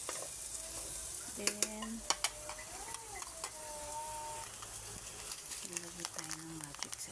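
Onions and sweet potato sizzling in a pan while being stirred, a steady frying hiss with scattered utensil scrapes and clinks, a voice speaking briefly over it.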